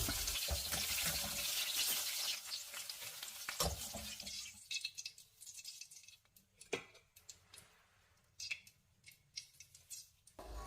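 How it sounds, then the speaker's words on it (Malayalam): Okra sautéing in coconut oil in a pan, a loud sizzle at first that settles into quieter crackling with intermittent scraping stirs and clinks of a utensil. "റെഡിയാക്കി വെച്ചിട്ടുള്ള വെണ്ടയ്ക്ക ഇതിലേക്ക് ഇട്ടൊരു അഞ്ച് മിനിറ്റ് നേരം വഴറ്റിയെടുക്കുക"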